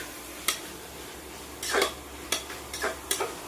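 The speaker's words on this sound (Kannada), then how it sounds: "ಇವಾಗ ನೋಡಿ ಫ್ರೈ ಆಗ್ತಾ ಇದೆ ಈರುಳ್ಳಿ, ಟೊಮೆಟೊ ಮತ್ತು ಬಟಾಣಿ ಹಾಕಿರೋದು." Onion, tomato and peas cooking in a pan for Karnataka-style tomato rice, with a low sizzle under sharp scraping clinks of a spoon stirring against the metal, five or six distinct strokes at uneven intervals.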